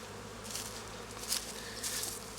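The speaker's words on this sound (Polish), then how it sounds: "Te pszczoły są małe i tylko małe" Bees buzzing at an apiary, small bees: a soft, steady hum with a few brief, louder buzzes as insects pass close by, no voices.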